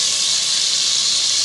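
Meat sizzles loudly and steadily in a hot pot with ginger, garlic and chilli powder just added, a dense close-up hiss with no pause.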